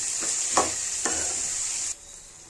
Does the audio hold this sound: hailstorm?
no